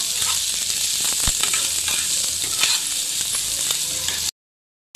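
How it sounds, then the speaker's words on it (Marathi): Onion roasting in a pan until reddish makes a loud, dense, close sizzle with stirring clatter that stops abruptly near the end. "खोबऱ्यानंतर कांदा भाजून घ्यायचा लालसर भाजून घ्यायचा"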